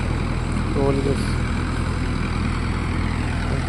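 An automatic driverless tractor sprayer runs with a steady low engine rumble, continuous and fairly close, while a voice talks briefly over it.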